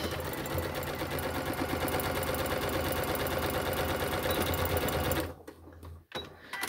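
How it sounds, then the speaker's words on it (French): A sewing machine stitches a handbag in a fast, even chatter for about five seconds before stopping, followed by a few faint handling noises. "on va coudre les deux autres côtés tout le long"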